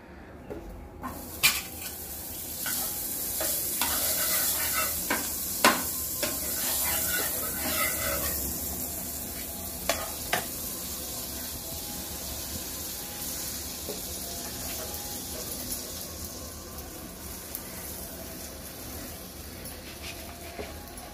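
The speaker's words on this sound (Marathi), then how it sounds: "आता चांगले भाजायचे, दोन्ही बाजूने चांगले खरपूस भाजायचे" Cheese chicken tacos crisp in butter on a tawa, a soft steady sizzle with occasional clicks and taps of a spatula or pan, moderately faint and without talk.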